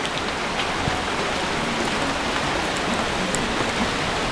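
Heavy typhoon rain pours steadily behind a house in the Philippines, a dense, even hiss of drops drumming on surfaces with no let-up.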